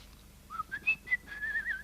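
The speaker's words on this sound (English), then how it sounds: "He's just whistling." A person whistles a short, bright tune of several rising and sliding notes, close and clear against a faint low background, with no talking.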